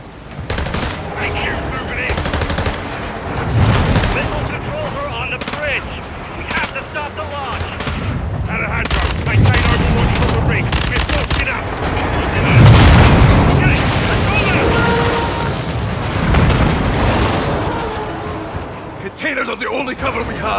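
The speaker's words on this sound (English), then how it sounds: "Let's have ourselves a gunfight!" Heavy Modern Warfare 2 combat rattles with repeated machine-gun bursts, single shots and booming explosions over about twenty seconds, dense and loud, while voices call out through the battle.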